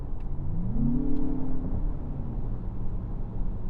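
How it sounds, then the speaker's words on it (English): A 2025 Lexus RX 500h F Sport Performance hybrid SUV kicks down a gear under full throttle, its engine note rising in a short revving surge before settling into a steady hum, with no talk over it. "you put your foot all the way down and click it, you can hear it drop a gear"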